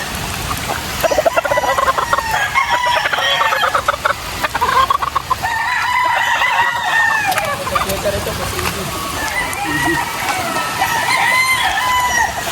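A yellow-legged white kelso gamefowl rooster crows loudly among other chickens at a poultry seller, with repeated clucking and crowing throughout and faint voices in the background.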